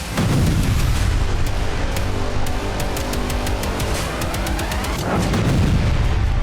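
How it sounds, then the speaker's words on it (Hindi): Loud explosion from a Ukrainian missile strike on a Russian MLRS in Kovalivka, Luhansk, a continuous heavy roar of blasts with rapid cracking detonations and rumbling booms throughout. "यह जोरदार धमाका लुहांस्क के कोवलिवका इलाके में हुआ।"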